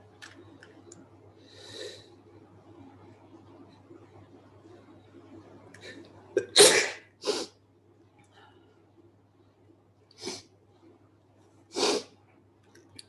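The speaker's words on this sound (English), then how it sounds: "I just sneezed." A person sneezes sharply once, followed by a second shorter burst and later a few more sniffs or sneeze-like blasts, close to the microphone over a quiet room hum.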